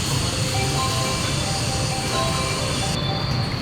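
An approaching train pulls in at track 6 of a Japanese station, likely a Yakumo limited express bound for Izumo, giving a steady, loud rumble of rail noise with faint high wheel whines running throughout.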